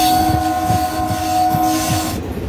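Passenger train on the Asansol to Purulia line, a loud, steady rolling rumble with a sustained tonal whine and rhythmic wheel thumps, fading slightly at the end.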